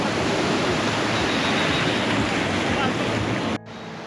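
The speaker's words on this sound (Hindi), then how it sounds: "ये देखो जी, ये मतलब ये लहरें कैसे आ रही हैं।" Ocean waves surge loudly onto the shore at Radhanagar beach on Havelock Island in the Andaman Islands, a dense, continuous roar of surf and wind that cuts off abruptly near the end.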